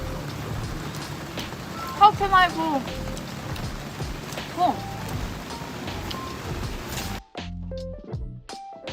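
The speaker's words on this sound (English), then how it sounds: "Now it's a little bit heavy raining." Heavy rain pours steadily at a street burger stall in Malaysia, a dense hiss throughout, with a person speaking briefly over it before the sound cuts to near quiet.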